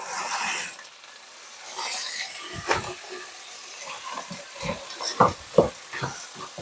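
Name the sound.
stirring frozen black-eyed peas in a pan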